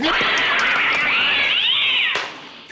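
A performer on stage imitates a cat, giving one long, loud, drawn-out meow with a wavering pitch that cuts off sharply near the end.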